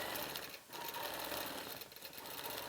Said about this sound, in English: I'll stitch in the ditch over to here